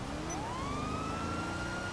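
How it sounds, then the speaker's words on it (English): A police car siren in GTA role play rises and holds a wailing tone over steady game background noise, moderately loud for a couple of seconds. "Whoop, whoop. It's the sound of the police."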